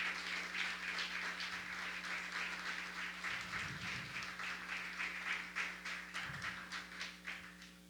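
A church congregation applauds during a Sunday service, fairly quiet rhythmic clapping heard from a distance under a constant low electrical hum, with a couple of dull thumps partway through.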